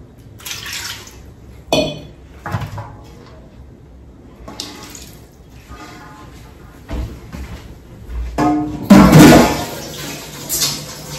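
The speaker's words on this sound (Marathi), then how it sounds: "अजून थोडंसं पाणी टाकते." Water poured into a pot of horse gram flour mixture for shengule, short splashing and trickling bursts separated by pauses, with a louder gush near the end, close up.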